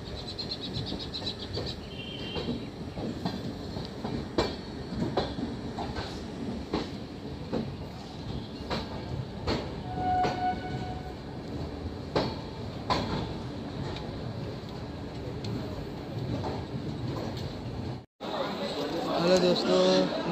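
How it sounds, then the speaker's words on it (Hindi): Passenger train arriving at Nagpur Junction, a steady low rumble of rolling carriages with clacks and station ambience, birds and distant chatter, and someone talking over it; a brief dropout near the end. "हमारी ट्रेन नागपुर जंक्शन आ चुका है, ये देखिए दोस्तों"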